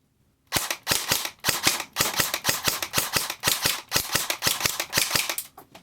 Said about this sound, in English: It's a very quiet gun because I put the sorbo pad in, and it's all polymer, and it's a version 3 gearbox